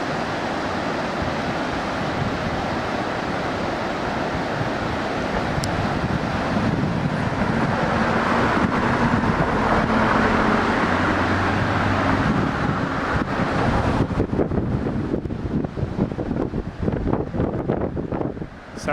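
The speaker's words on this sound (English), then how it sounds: "Sorry about the wind." Wind buffets a microphone outdoors near a cliff nest, a loud continuous rumbling roar with gusty surges that lasts throughout with no other clear sounds.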